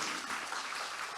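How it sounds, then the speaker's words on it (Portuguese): A congregation in church applauds in a brief, dense burst of many hands clapping together, steady and moderately soft with no speech over it. "Quem vai aplaudir a Deus aqui?"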